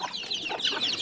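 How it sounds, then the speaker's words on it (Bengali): Native desi chickens clucking close by, a short run of several quick, bright clucks. "আমাদের মুরগিগুলো দেখ গাইস, আমাদের দেশি মুরগি হয়েছে,"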